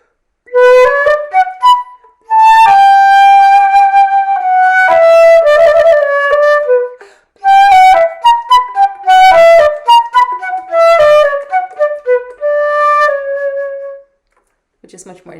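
A breathy flute plays a minuet melody with shaped, phrased notes, some held and some detached, in short bursts with brief pauses between phrases.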